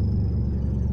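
Idling engine of a 1993 Nissan Tsuru with a weak alternator and a faulty TPS signal, a short, steady low rumble close by.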